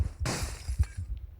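Glass window shattering in the PUBG Mobile video game: one sudden, bright crash that rings on briefly, followed by softer low thuds and faint game ambience, with no talking.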